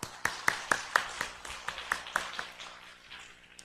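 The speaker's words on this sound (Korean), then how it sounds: "방송실 우리 수고하는데 박수 한번." A church congregation claps in a faint, sparse patter, a handful of sharp, distinct claps in a loose rhythm that thin out and fade toward the end.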